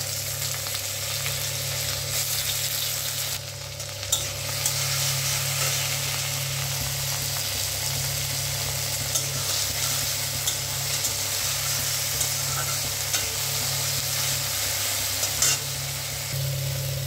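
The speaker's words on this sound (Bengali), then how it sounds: "তো টমেটোটা আমার ভালো করে কষানো হয়ে গেছে।" Tomatoes with green chillies, white mustard seeds and bay leaf frying in oil in a pan for a potato curry, a steady low sizzle under continuous hum, with occasional scrapes of stirring.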